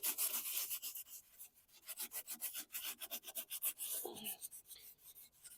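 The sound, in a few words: rag rubbing gasoline on sticker glue residue on a Toro mower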